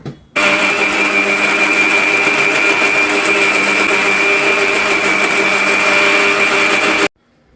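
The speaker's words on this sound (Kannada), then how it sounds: "ಇವಾಗ ಇದಕ್ಕೆ ಸ್ವಲ್ಪ ನೀರನ್ನ ಹಾಕ್ಕೊಂಡು ರುಬ್ಕೋಬೇಕು" A mixer grinder whirs loudly and steadily for about seven seconds, grinding sambar masala paste with a little water, starting and stopping abruptly.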